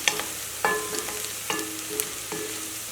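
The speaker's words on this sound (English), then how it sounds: "So we're going to cook this garlic for about 5 seconds." Garlic frying in a pan for coconut beans, a faint sizzle under the sharp clinks and scrapes of a utensil stirring against the pan at irregular intervals, close and moderately quiet.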